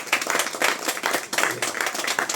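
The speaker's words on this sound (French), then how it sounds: "Ça mérite un bel applaudissement" Neighbourhood residents at a community conference clap together, a loud lively burst of hand claps with uneven bunched rhythm, close and alone without talk.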